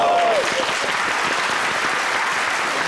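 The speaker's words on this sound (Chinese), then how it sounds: "拍手。" Studio audience on a Taiwanese TV variety quiz show breaks into steady, dense applause that fills the whole stretch, loud and close, with a brief tonal note at the start.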